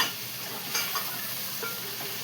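A brinjal and ivy gourd curry fries in a pan with a steady, soft sizzle while a spoon scrapes and stirs it now and then. The sizzle is fairly quiet and close, and no one speaks.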